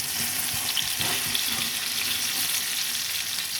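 Eggplant omelette (tortang talong) frying in a hot pan, a continuous close crackling sizzle with a few soft clatters near the start, heard alone without talk.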